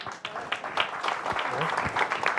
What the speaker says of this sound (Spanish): muchas gracias y un aplauso a todos